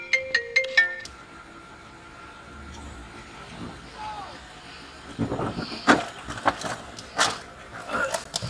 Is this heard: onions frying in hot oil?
no